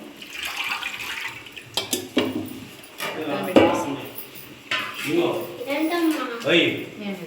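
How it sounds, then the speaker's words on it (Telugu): Running water splashes from a tap as hands are washed in a home kitchen, heard under near-continuous talking. "చేతులు కడుక్కుంటున్నాను"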